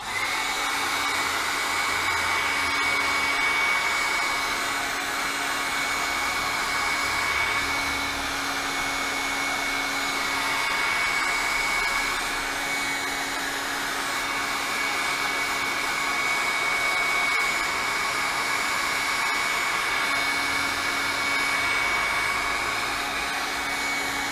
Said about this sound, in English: we're just going to heat up this section here so we can try to pop out that area we just made a cut in.